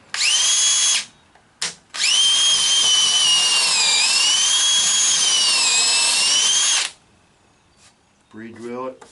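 A power drill pre-drills a hole in wood for a porch swing, running loud and close in one long steady whine with a brief burst just before, followed by a short spoken remark.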